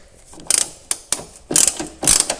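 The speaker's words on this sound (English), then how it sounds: "Now I'll go ahead and remove both of these bolts." A ratchet works M8 bolts loose on the upper hatch latch of a VW Golf mk4, giving several short, loud clicking bursts close by with brief gaps between strokes.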